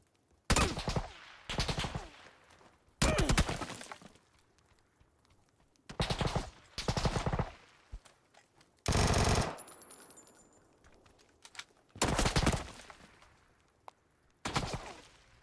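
SMG fire in the video game PUBG comes in short, loud automatic bursts, about seven of them spaced irregularly across the stretch, with quieter gaps between.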